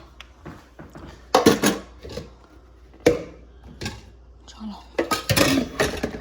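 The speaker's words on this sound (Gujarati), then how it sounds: "અને આ બધા વાસણ પહેલાં હું ઘસી દઉં તો કેવું પાછળથી વધારે વાસણ ના થાય." Tea and dinner utensils, including pots and plates, are scrubbed and washed in a home kitchen. Irregular metallic clinks and clatters come in short bursts close by, with quiet stretches between them.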